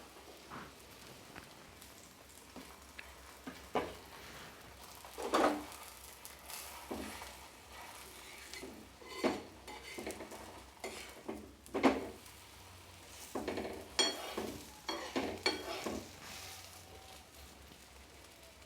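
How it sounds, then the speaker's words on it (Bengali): A large aloo paratha cooks on a tawa griddle with a soft, faint sizzle. Several quiet taps and handling clatters break through it at uneven intervals. Close but low in level, with no voices. "বড় একটা পরোটা আমি চাটুর মধ্যে দিয়ে দিচ্ছি।"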